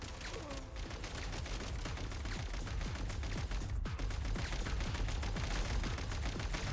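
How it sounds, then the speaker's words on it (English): Dense, continuous gunfire rattles through a battle in the video game Genshin Impact, rapid overlapping shots with deep booms underneath, loud and sustained throughout. "They're shooting constantly!"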